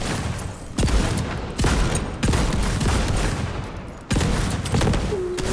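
Sticky grenades exploding in Borderlands 3: a series of loud, abrupt blasts at uneven intervals, each followed by a rumbling decay, with gunfire-like crackle between them.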